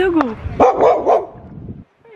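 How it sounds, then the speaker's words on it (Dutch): A dog barks a few sharp times nearby on a street in Barcelona, mixed in with speech and then trailing off into quiet. "Zo, er blaft hier een hond."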